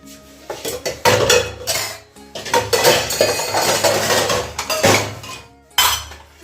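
A big pile of dishes, pots and cutlery being washed by hand in a home kitchen: steady clattering of metal pans, clinks of spoons and scraping, loud and close with irregular bursts and no speech.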